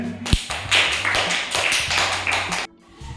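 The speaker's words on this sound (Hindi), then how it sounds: "एक बार जोरदार ताली हो जाए।" A group gives a loud round of clapping during an educational riddle-solving activity. It is a dense, continuous burst that lasts a few seconds and then stops abruptly.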